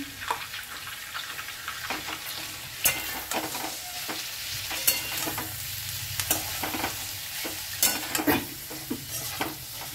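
Vegetables with green chilli and peas fry in a pan, a soft steady sizzle under repeated scraping and clinking strokes of a spoon stirring, close and moderately quiet.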